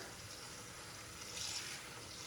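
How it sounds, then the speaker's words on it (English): Cold tap water runs steadily for washing cranberries, a soft even hiss of flowing water, faint and uninterrupted. "Now we're going to add cold water and just a drop of dish soap"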